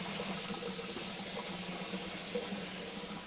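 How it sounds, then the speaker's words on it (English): Cold tap water pours steadily over cooked rice noodles, a constant hissing splash at moderate level with no breaks or voices. "the cold water is running because you want to stop the process of cooking in the noodle"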